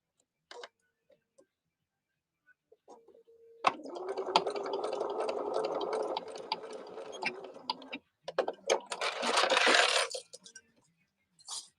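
A sewing machine stitches fabric for a pin cushion, a close, rapid mechanical whirring run of about four seconds after scattered small clicks, followed by another short burst and a quieter tail.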